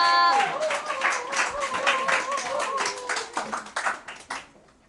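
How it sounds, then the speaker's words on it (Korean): An audience applauds a student presenter at a school learning showcase, with a bright burst of clapping joined by a brief musical tone at the start, then a thinning patter that tapers off into quiet. "큰 박수 부탁드립니다."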